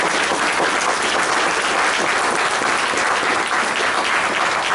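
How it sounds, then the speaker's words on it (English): A crowd at a candidates' debate breaks into applause, a dense, even wash of many hands clapping loudly without pause for the whole stretch. "Please give him a round of applause"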